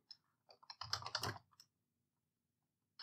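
Someone types terminal commands on a computer keyboard in a quiet room. A close, crisp burst of key clicks quickens into a denser cluster, then stops, and one more keystroke lands at the end.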